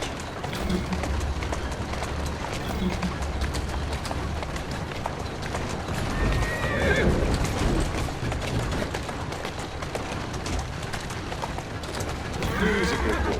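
Horse in Assassin's Creed Syndicate, galloping hooves running steadily throughout with a whinny around the middle and another near the end, set against busy game ambience.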